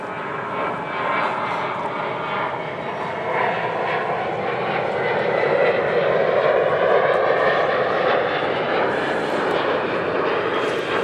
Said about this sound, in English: we are underneath the flight path for Sky Harbor Airport here in Arizona